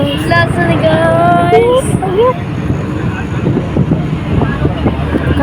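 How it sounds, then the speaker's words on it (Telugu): Strong wind at Chilkur Balaji temple buffets the microphone in loud, gusty rumbles while a person talks over it. "ఇదన్నమాట ఫుల్ గాలి వస్తుంది"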